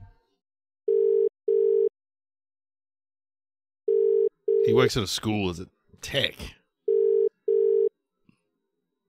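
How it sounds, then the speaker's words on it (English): An outgoing telephone call rings out in repeated double-burst ringback tones, heard three times with quiet gaps between them, while people talk briefly in the middle. "All right, we'll try ringing him."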